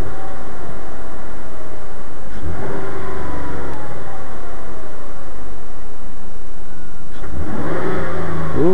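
A 2001 Ford Escape V6 engine runs close by with loud rough noise and rising revs, after work on the upper and lower intake manifold gaskets; no voices are heard.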